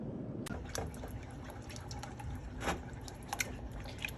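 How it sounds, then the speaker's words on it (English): Cheddar cheese soup and milk stirred together in a saucepan: soft wet slurping and squishing with occasional light scrapes and clinks of the spoon, close and fairly quiet, with no voices. "And just stir to incorporate that milk while it's heating up."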